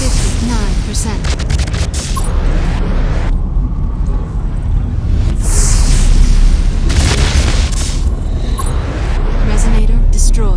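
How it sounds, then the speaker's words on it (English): Resonator destruction explosions in Ingress Prime boom repeatedly over a dense, loud bed of game effects and rumbling, with crackling bursts and a synthetic announcer voice. "Resonator destroyed."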